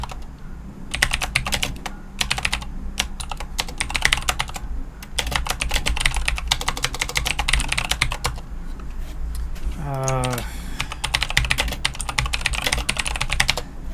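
Rapid, steady typing on a computer keyboard while writing Python code, continuous clicking keystrokes in quick bursts throughout, with a brief rising tonal sweep partway through.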